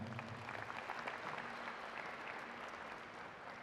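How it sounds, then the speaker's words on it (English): Steady, dense applause from a sports crowd before a netball match, sustained and even throughout with no break, at moderate distance. "a huge round of applause"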